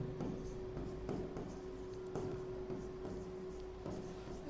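A pen scratches out a maths solution on paper in a Class 6 percentage lesson, soft, close and steady rubbing strokes with small pauses, faint and alone with no talk.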